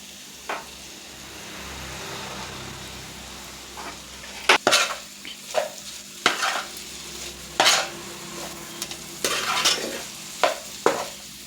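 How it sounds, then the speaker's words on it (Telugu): Chicken fried rice frying in a pan, a soft sizzle broken by repeated scraping and clinking as a utensil stirs and tosses it, in irregular bursts with no voices. "బాగా వేగనివ్వాలి."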